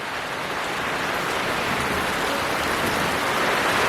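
Heavy unseasonal rain pours down in Konkan, a loud, dense, unbroken hiss of rainfall building slightly in intensity throughout.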